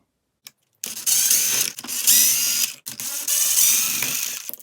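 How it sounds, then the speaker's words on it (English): Rapid mechanical ratcheting whirs from a power driver or tool backing bolts out of an SCX6 RC crawler chassis during an axle housing and shock mount swap, coming in short bursts with brief pauses, close and fairly loud, with no talking. "Take that bolt out. And then a few other bolts right there on the chassis."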